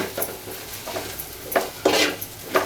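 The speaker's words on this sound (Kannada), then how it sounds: "ನೋಡಿ, ಈ ರೀತಿ ಚೆನ್ನಾಗಿ ಹುರ್ಕೊಳ್ಬೇಕು ಮೊಟ್ಟೆನ" Eggs fry in a pan for street-style egg rice, a soft sizzle under repeated scraping and stirring strokes of a utensil against the metal in an uneven rhythm.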